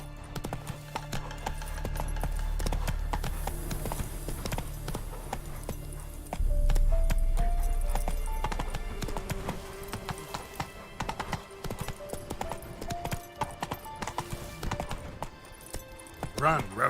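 Steady rhythmic hoofbeats of the horse Roach galloping in The Witcher 3: Wild Hunt video game on PC, continuous and fairly close under orchestral music.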